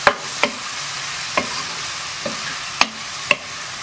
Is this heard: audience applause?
no